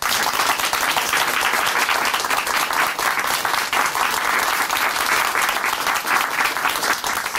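A church audience at a testimony broadcast claps warmly in dense, continuous applause. It stays loud and even throughout, with no speech over it.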